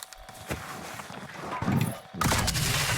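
Gunfire in Call of Duty Warzone Pacific, a couple of sharp shots and bursts mixed with in-game footsteps and background battle noise, loud and close, with no talk over it.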